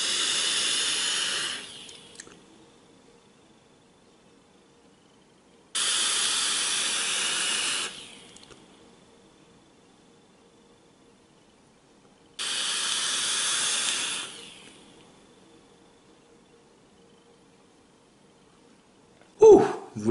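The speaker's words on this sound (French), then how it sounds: "Vous l'avez vu, ça envoie vraiment une grosse vapeur." A Geek Vape Medusa dripper vaped at 70 watts with airflow fully open on high-VG liquid, giving three long, loud airy draw-and-exhale hisses of a couple of seconds each, separated by quiet pauses, with a brief sharp noise at the end.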